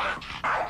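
In a bedroom scene from a Hindi-dubbed Hollywood action film, a dog sitting on the bed gives two loud, close barks a fraction of a second apart, with no speech on top.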